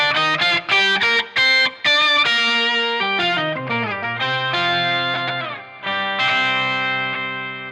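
Electric guitar through the Archetype Rabea plugin's synth-like octave effect, with an organ-like upper octave, playing a phrase of staccato notes that move into sustained, shimmering chords with chorus and light distortion, loud and close.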